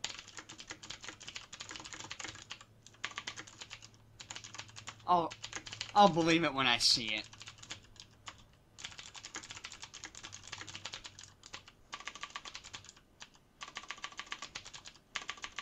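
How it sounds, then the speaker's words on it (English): Rapid clicky clatter of a new mechanical keyboard being typed on in steady bursts with short pauses, close and moderately quiet, with brief speech cutting in midway. "Oh, this is a new keyboard."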